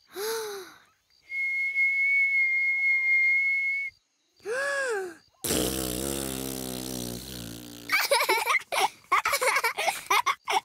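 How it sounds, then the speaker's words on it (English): A steady, high whistled note is held for a couple of seconds between short bursts of vocalizing, followed by louder breathy and rustling noises. "How do you whistle"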